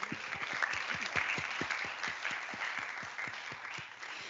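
Participants at the close of a three-day workshop on gender action plans applaud one another. The room fills with steady clapping, with some individual claps standing out close by, and the applause tapers off near the end.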